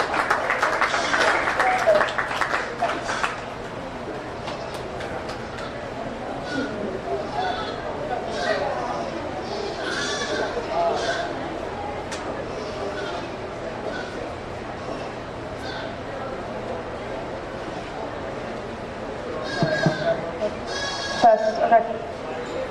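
Nubian dairy goats bleat now and then at a county fair junior dairy goat show, scattered calls amid crowd murmur, brief applause near the start and a show announcer talking over the pen noise.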